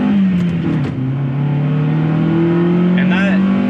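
A Honda Civic Si EP3 engine revs steadily while driving, pitch climbing and holding before a gear change near the end, loud and close from inside the car.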